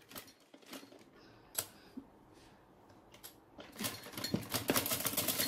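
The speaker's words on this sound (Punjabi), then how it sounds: "ਹੁਣ ਇਹਦੀ ਫਿਨਿਸ਼ਿੰਗ ਦੀ ਪਹਿਲੇ ਸਿਲਾਈ ਤੁਸੀਂ ਦੇਖੋ ਮੈਂ ਲਗਾਉਣੀ ਦੱਸ ਰਹੀ ਹਾਂ" A sewing machine stitches the finishing seam on the collar of a gents' pleated kurta, heard in short, faint runs of whirring and clicking with pauses between, and louder, steadier stitching toward the end.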